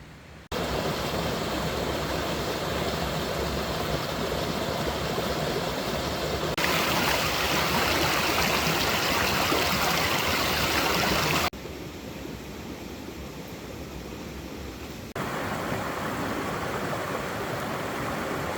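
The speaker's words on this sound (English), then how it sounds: "found this really beautiful creek." Steady rushing water from a flowing creek near a Vermont campsite fills the whole stretch, broadband and constant, with a few abrupt shifts in level and tone.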